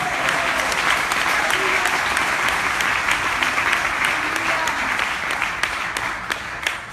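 A church congregation claps continuously and fairly loudly for seven seconds, a dense even patter of many hands, with faint voices mixed in beneath the applause.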